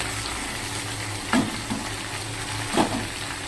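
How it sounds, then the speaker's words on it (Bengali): Fish frying in a pan makes a soft, steady sizzle, with two brief clinks or stirring knocks standing out, heard nearby without speech. "আর এদিকে মাছটা ভাজা হচ্ছে।"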